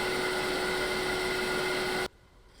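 A wood lathe spins a cherry bowl blank at 800 RPM, giving a loud, steady whirring drone with a constant tone that runs evenly before cutting off abruptly near the end.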